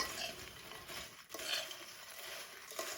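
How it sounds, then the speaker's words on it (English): Nuts, almonds, pistachios, cranberries and sultanas are stirred together in a bowl, a soft, continuous rustling and scraping that is faint and close, with no talk. "Just give that a little bit of a stir together."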